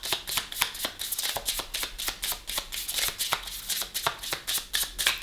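A deck of tarot cards is riffled and shuffled in quick, rhythmic bursts, the crisp flutter of the cards repeating steadily and close up.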